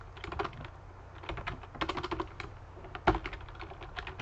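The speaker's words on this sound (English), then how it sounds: "now we can do our typing" Rapid typing on a computer keyboard while scripting an AutoIt bot, with close, dense keystrokes clattering steadily throughout and no voices.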